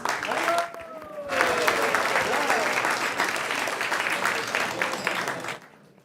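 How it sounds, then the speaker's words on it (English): An audience at a devotional lecture gathering gives a sustained round of applause lasting several seconds, fairly even and moderately loud, with a brief tonal voice or chant before it and a quick fade at the end. "Let's welcome everybody with a big round of applause."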